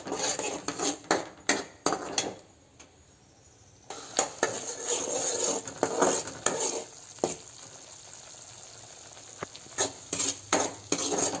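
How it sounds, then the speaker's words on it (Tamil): Radish halwa being stirred in a pan, with a spoon scraping and clattering against the metal in irregular bursts over a steady frying sizzle, and a brief quieter pause partway through. "ஊற்றி நல்லா கிண்டிக்கிட்டே இருக்கணும்"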